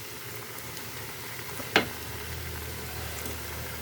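Spring onion stalks fry in a pan with a constant low sizzle, broken once by a sharp clink or scrape of a utensil, with no one speaking.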